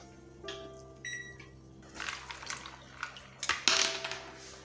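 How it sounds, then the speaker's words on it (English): Steamed carrots dropped into a bowl of ice water in a home kitchen: a few brief electronic beeps come first, then rising splashes, sloshing and clinks of ice, loudest near the end. "We're going to go directly to the ice water and shock them, place it in there"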